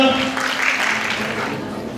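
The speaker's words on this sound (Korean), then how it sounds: "뜨거운 박수를 부탁드리겠습니다" Guests at a wedding ceremony in a Seoul hotel fill the hall with warm, dense applause, a close and fairly loud continuous patter of clapping with some voices mixed in.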